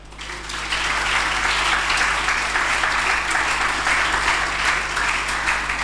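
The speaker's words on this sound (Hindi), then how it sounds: "आइए यीशु के लिए जोरदार तालियां बजाएं।" A church congregation claps loudly during a Pentecost sermon, with sustained, dense applause that swells in after a brief quieter start and continues evenly throughout.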